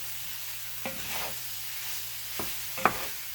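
A dish with barbecue sauce is stirred in a pan, giving a soft bubbling sizzle broken by a few scraping strokes and one sharp clink near the end.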